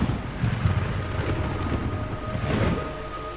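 Steady rain pours in Metal Gear Solid 3: Snake Eater, a dense, even hiss with low rumbling, like a downpour with wind, continuing without pause under no talk.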